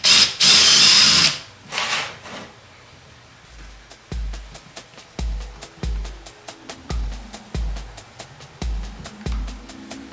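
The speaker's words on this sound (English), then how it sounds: "Just going to drill a small hole through here" A small hole being drilled through a wooden sawhorse support block, a loud hiss at first, then a rhythmic series of short drill pulses and clicks repeating close by.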